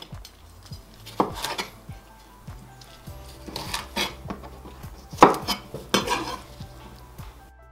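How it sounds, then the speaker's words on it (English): A knife cuts smashed cucumber into 1 cm chunks on a board, a string of close, sharp knocks at an uneven pace, with a few louder chops among them. "cut the tip of the cucumber off and cut it into 1 cm wide chunks"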